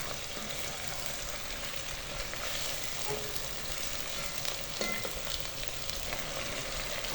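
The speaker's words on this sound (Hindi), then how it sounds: "चिकन को हम 3 से 4 मिनट तक घी में फ्राई करेंगे" Chicken frying in ghee with a steady, dense sizzle and crackle, close and continuous, faint stirring scrapes now and then, no voices.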